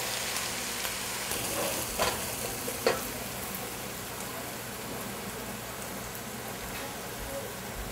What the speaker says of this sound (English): you need to constantly stir the onion, otherwise it will burn